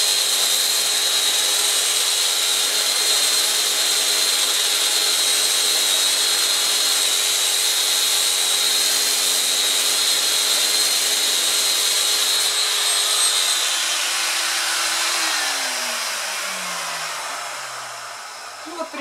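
Electric sander running with vacuum dust extraction while sanding bathroom furniture, a steady loud whine and hum that holds, then winds down and pitches lower near the end, with no talking.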